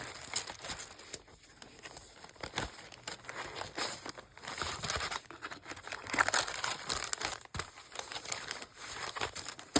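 Brown paper being crumpled and torn by hand, a continuous close crinkling and rustling with occasional tearing sounds and no speech.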